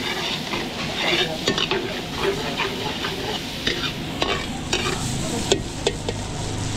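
Chicken breast with egg, onion and garlic fries in a pan at an outdoor fiesta cooking spot, a continuous sizzle broken by clattering stirs and scrapes from a utensil against the pan.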